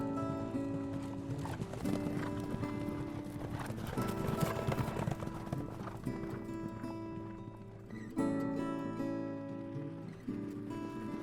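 Hooves of a Canadian horse clip-clop in a steady rhythm, close and prominent, under a continuous bed of sustained music.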